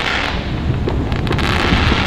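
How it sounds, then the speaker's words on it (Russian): Fireworks crackle and pop in a dense, continuous wash all around, muffled by heavy wind rumble against the microphone. "Повсюду лупят салюты, просто повсюду лупят салюты."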